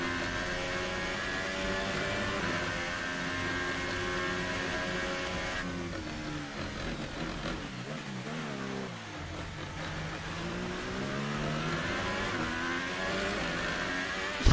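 A McLaren race car engine in the video game F1 2018 roars steadily at Austria, its pitch climbing and falling as it accelerates and shifts gears, loud and continuous throughout.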